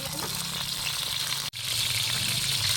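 Tomato sautéing in a pan with onion and garlic for monggo with pork pata, a continuous close sizzle and frying hiss with a brief break midway, no talking.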